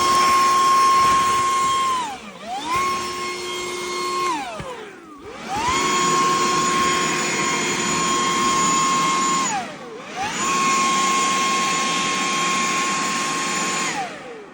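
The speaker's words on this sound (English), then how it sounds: "blew the roof off, got the gutter installed." A loud leaf blower clears leaves off a roof by a newly installed gutter, its steady motor whine and rushing air rising and falling in pitch over several long throttle bursts with brief dips between them.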